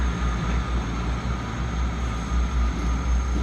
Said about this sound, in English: as that train goes out